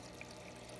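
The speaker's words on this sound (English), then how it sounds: "as you can see, all the water's like flowing through it and stuff." Water flows steadily through lava rock filtration media in an aquarium filter, a faint, continuous trickle heard on its own without talk.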